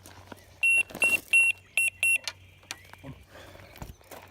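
Electronic carp-fishing bite alarm at a lakeside fishery, sounding five short, loud, high-pitched beeps in a quick irregular run, followed by quieter rustling and handling noise with no talk.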